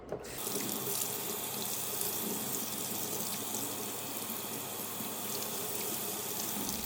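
A luffa sponge is washed with dish soap under a running kitchen tap, a steady loud rush of water into the sink that continues without break and with no talking.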